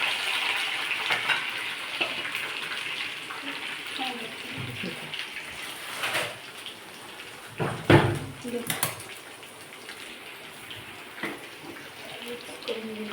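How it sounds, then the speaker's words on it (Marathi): Curry leaves and peanuts sizzle in a hot pan while being stirred and sautéed, a continuous frying hiss broken by scraping stirring strokes, with a person talking over it. "मिक्स करून घेऊया, छान परतून घेऊया ह्याला."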